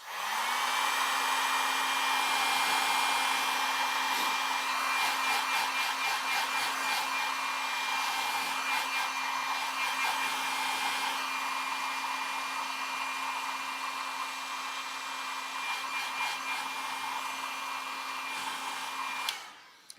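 A hair dryer blows steadily on a watercolour painting, a loud, constant motor whine running alone for about twenty seconds before cutting off abruptly at the end.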